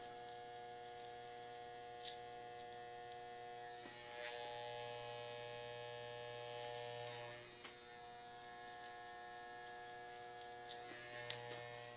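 Electric hair clippers hum and buzz steadily while cutting a taper haircut, with the motor pitch swelling in stretches and a few small clicks of the blade against hair.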